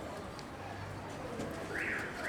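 Pigeons coo softly near a rooftop loft, a low repeated call, with faint chirps and outdoor background around them.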